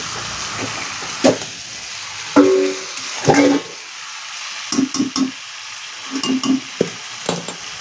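Mutton with ginger and garlic is sautéed and stirred in a pan for a spicy goat curry, a low sizzle with intermittent scraping and clattering stirs.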